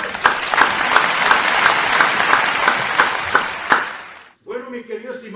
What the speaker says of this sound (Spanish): Esto merece otro aplauso.